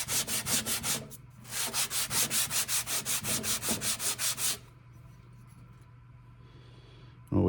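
A Kohler Command engine head's gasket surface on a Cub Cadet tractor is sanded by hand in quick, regular rubbing strokes. A short pause comes between two runs of strokes, and the sanding stops partway through, leaving a quiet room.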